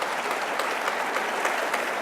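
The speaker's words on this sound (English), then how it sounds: "The only people clapping are lobbyists right now." Steady applause from lobbyists in the audience at a legislative panel breakfast, a dense, even patter of clapping filling the room without pause.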